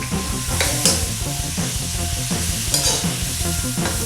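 Three large sliced green chillies and coriander leaves go into hot oil for a chicken curry, giving a steady, close sizzle and frying crackle with occasional stirring scrapes and no talking.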